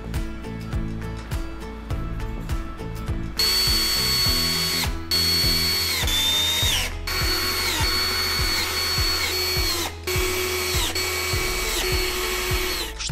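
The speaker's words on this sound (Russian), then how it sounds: "крепит их с помощью саморезов из комплекта фурнитуры" Power screwdriver driving self-tapping screws into the rails of a 90x200 bed frame, several bursts of whirring motor with ratcheting clicks, stopping and restarting, close and loud.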